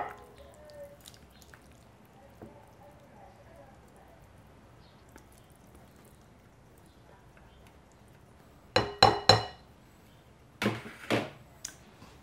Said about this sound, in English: I'm going to scrape the mixture into a bowl.